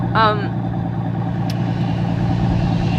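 Mercedes-Maybach Exelero engine droning steadily from inside the car while driving, with a brief voice at the start over the continuous low rumble.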